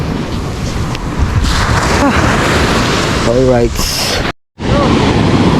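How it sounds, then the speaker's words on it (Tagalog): Big ocean waves surge and wash continuously outdoors, mixed with strong wind buffeting the microphone, while people talk over the roar and a brief dropout cuts the sound near the end. "Ang problema, may malaking alon."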